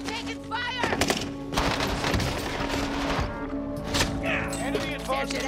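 Gunfire in the video game Call of Duty Warzone, with rapid bursts and scattered shots packed together over constant background game noise, while a voice talks over the action.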